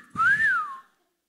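A single short, clear whistle rises and then falls, imitating a catcall. It is close and is heard alone.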